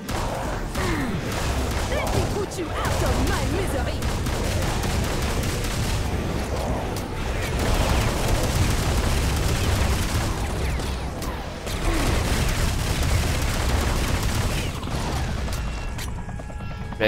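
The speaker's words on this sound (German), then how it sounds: "Schwarzer Helikopter. Stürzt ab." Gunfire and mechanical clatter from a black helicopter crashing in the Serious Sam 4 video game, a dense, sustained barrage of shots and booms running continuously at steady loudness.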